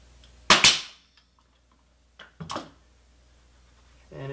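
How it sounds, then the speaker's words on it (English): A finish nail gun drives long finish nails into an interior door threshold: two sharp, loud cracks about two seconds apart with quiet between them, and a faint sound at the end. "I've got a different nail gun for that. This one shoots a longer finish nail."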